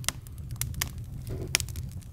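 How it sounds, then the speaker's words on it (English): Fir firewood burns in a fire, giving sharp scattered pops and crackles over a low steady rumble, close and moderately quiet. "They got little pockets of sap would explode and pop and crack"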